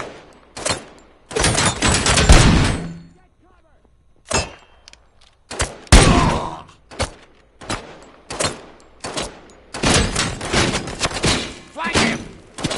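Gunfire in the video game RoboCop: Rogue City: loud, close bursts of shots separated by short silences, with sharp single blasts between them and shouted voices in places.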